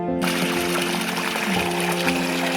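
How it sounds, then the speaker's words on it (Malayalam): Water runs from an open tap left on, a loud continuous rushing stream that stays steady throughout, with a low hum beneath it. "പൈപ്പ് തുറന്നിട്ടിട്ടാണ് വന്നത്, വെള്ളം പോകത്തില്ലേ?"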